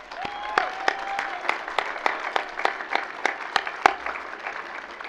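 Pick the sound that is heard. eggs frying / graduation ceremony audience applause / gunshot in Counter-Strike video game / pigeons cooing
graduation ceremony audience applause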